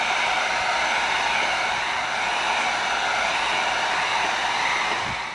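A heat gun blows a steady, loud, even hiss of hot air onto EVA foam to heat-seal it, running unbroken for several seconds before easing off at the end, with no talking.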